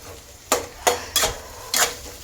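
Thick-cut onion dropped into a hot pan for frying, four distinct scraping stirs of a spoon against the pan, loud and close, over a faint background sizzle.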